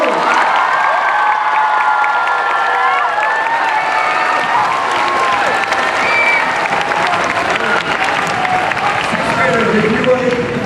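Loud, sustained applause and cheering from a large crowd in an arena with bleachers, clapping and whoops blending into a continuous roar for about ten seconds.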